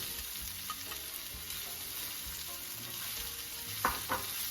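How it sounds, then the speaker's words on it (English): Broccoli fries in a hot pan with beef and broccoli cooking, giving a constant hiss of sizzling oil and a few faint scrapes from stirring, and no one talks. "I'm going to dump the broccoli in."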